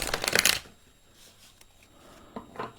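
A quick riffle of tarot cards being shuffled, close and crisp, followed by quiet and a few soft taps and card sounds.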